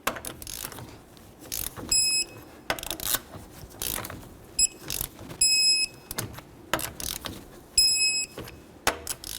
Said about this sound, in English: let's torque these to 76 in a crisscross manner